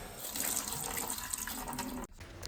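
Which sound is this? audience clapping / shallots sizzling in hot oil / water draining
water draining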